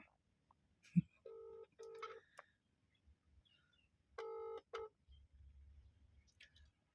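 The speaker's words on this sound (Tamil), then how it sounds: "நம்மளே ஃபோன் பண்ணி கேட்போம் அவங்களுக்கு ஓகேவா ஸ்பீக்கரில் போடுறேன்" A phone is dialed on speakerphone: a sharp click, then short bursts of keypad beeps, a pause, another quick cluster of tones, and faint low rumbling afterward, all fairly quiet.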